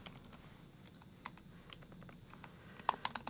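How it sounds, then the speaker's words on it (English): Python code being typed on a computer keyboard, with faint, quiet key clicks in an irregular patter that grow a little sharper and more clustered toward the end. "type Python code"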